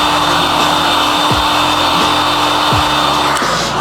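A heat gun blows a continuous whirring, hissing stream of hot air onto tint film on a car's rear light, steady and close, with faint soft knocks and no speech.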